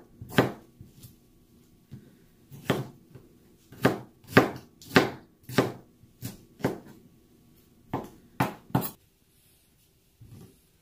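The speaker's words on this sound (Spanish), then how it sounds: "Vamos a cortar los 3 tomates." A knife chops three tomatoes on a cutting board for shrimp ceviche, giving about a dozen sharp, close thuds in an uneven rhythm with short pauses between groups of strokes, then quiet at the end.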